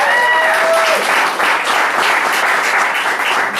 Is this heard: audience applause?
yes